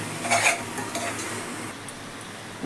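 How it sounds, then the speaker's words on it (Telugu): A spoon stirs and scrapes through tomatoes, onions and coriander powder in a metal pan, with a couple of clinks over a soft background sizzle of frying. "కొద్దిగా కొరియండర్ పౌడర్ అండి ధనియాల పొడి బాగా కలుపుకోవాలి"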